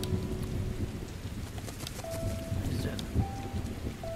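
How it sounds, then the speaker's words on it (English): Steady rain hisses in the background of the video game Hue, with low rumbling underneath and a few faint tones, continuous throughout without a break. "Oh, it's raining."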